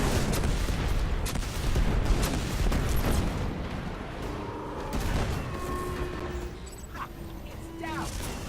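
Scorch cannon blasts and impacts boom during a Destiny 2 battle, with repeated heavy shots and explosions over game effects and a voice.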